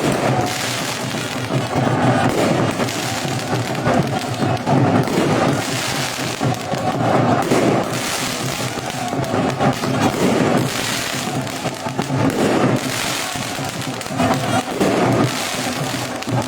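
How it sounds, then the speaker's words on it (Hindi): Fireworks crackle and pop repeatedly amid a noisy outdoor crowd at a political rally in Palampur, with bursts rising and falling over a steady din of voices and bustle. "और यहाँ आतिशबाजी"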